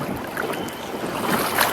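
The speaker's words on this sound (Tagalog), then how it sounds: "Malakas po ang hangin." Steady broadband wind noise rushes over the microphone outdoors at a fishing spot, loud and constant, with faint water sounds beneath.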